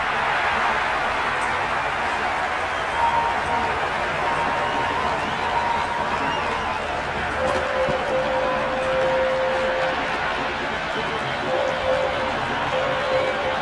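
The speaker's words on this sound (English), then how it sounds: "The crowd are really getting quite raucous." Steady raucous crowd roar fills the stands at a West Indies versus Nepal T20 World Cup cricket match, a dense continuous wash of chatter and cheering with slight swells throughout.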